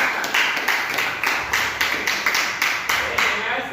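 A small group of students clapping for the first presenting group in a classroom, a sparse, rhythmic run of about a dozen distinct claps, fairly near and evenly spaced.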